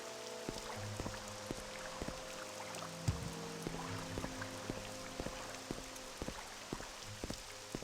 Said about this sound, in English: Traveling on a nice rainy day.